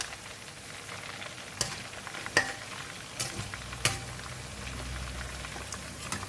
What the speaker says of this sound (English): second time frying, it won't take too long, so squid is ready.